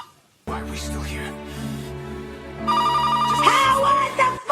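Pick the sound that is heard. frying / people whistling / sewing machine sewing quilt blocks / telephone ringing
telephone ringing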